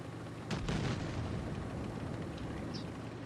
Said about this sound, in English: Love how our teammates are shooting already